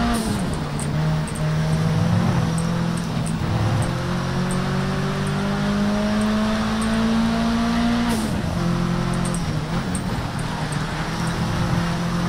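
A Mitsubishi Lancer race car in Project Cars 3 accelerating hard, its engine drone climbing steadily in pitch, dropping sharply at a gear change, then rising again, loud and continuous with no talking.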